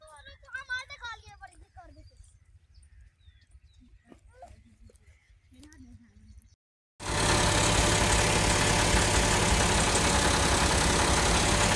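A tractor hauling a sand trolley idles loudly and steadily at close range, a sudden dense rumble that starts about halfway through after a stretch of quieter voices and background sounds.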